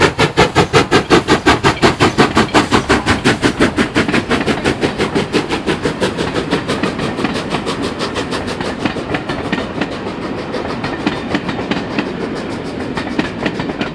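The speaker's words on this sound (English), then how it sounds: "There's a steam train for you." A steam train near the Glenfinnan Viaduct rolls past loud and close, with a fast regular clickety-clack beat that gradually loosens and fades over about fourteen seconds.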